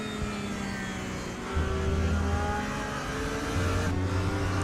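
A Porsche race car heard onboard in an esports racing game at the Hungaroring gives a steady engine drone that rises in pitch on acceleration, with gear shifts and continuous close engine noise and no talk.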